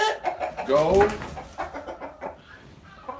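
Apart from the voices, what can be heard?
chickens and roosters clucking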